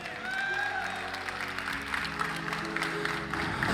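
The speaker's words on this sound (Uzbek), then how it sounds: "Qarsak chalib qo'yinglar shu odamga." An audience at a gathering breaks into applause: a burst of clapping with a voice and some tonal sound mixed in, holding at a steady level throughout.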